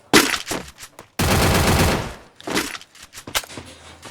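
A MAG-7 shotgun fires in Free Fire, loud close blasts in quick bursts with one sustained stretch of rapid gunfire and scattered sharp cracks between.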